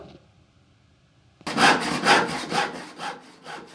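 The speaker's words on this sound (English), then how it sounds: "The first step is to saw each part to length and then make sure it's squared." After a quiet start, a hand saw cuts wooden frame saw parts to length in a workshop, close and loud, with rhythmic back-and-forth rasping strokes at a steady pace.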